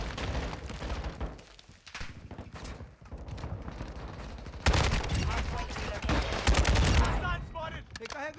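Kastov 762 rifle fire in Call of Duty, heavy bursts of close gunshots with booming impacts, growing louder midway and mixed with other game sounds.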